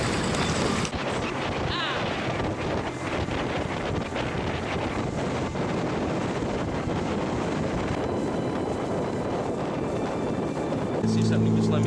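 A tour boat motor drones steadily throughout in Ketchikan, Alaska, mixed with heavy wind buffeting the microphone and splashing water.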